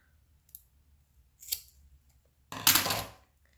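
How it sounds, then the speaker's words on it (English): Scissors snip through a glued kumihimo braided cord: two quick light snips followed by a longer, louder crunching cut near the end, close up with no talking. "so let's go ahead and cut off our cord here"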